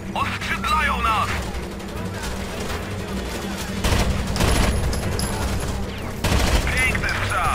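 Bursts of gunfire and rapid automatic shots crackle throughout in the video game Tom Clancy's Rainbow Six Vegas, with booming impacts, while voices talk excitedly over the action.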